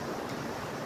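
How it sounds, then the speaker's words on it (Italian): Ocean waves wash onto a shore in Western Australia, a steady, close rushing hiss of surf with no voices. "ascoltare le onde, il suono delle onde del mare, dell'oceano"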